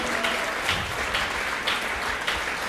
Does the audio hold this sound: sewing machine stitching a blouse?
no